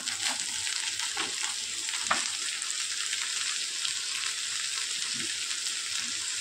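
Tomatoes fry in a pan for a dhaba-style cauliflower and potato dish, giving a steady, close sizzle with a few soft stirring scrapes and no voices.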